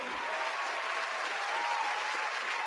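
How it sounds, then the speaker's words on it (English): Dense, steady applause from a crowd, a continuous wash of clapping at even loudness throughout. "Round of applause, Zima."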